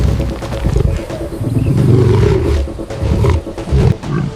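A lioness snarls and roars loudly and continuously, close by, while attacking a fallen baboon in the wild, with the growling rising and falling in intensity.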